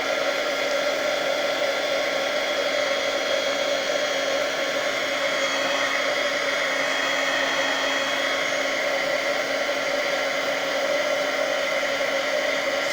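A heat tool blows hot air over embossing powder on a Christmas card, making a loud, constant whirring hiss with a steady fan tone and no change throughout.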